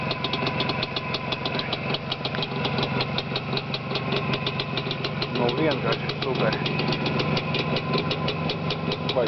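A motorcycle engine with newly fitted exhausts idles steadily and loudly up close, a rough, knocking pulse running throughout while someone speaks briefly over it.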